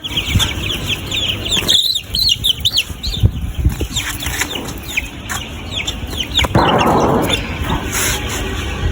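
Young layer chickens flap their wings and hop about nearby, with bursts of fluttering mixed with high peeping and clucking calls through the whole stretch.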